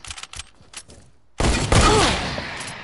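A burst of rapid gunfire from a video game gun erupts loud and close after a second of quieter, scattered game sounds, continuing as a dense volley.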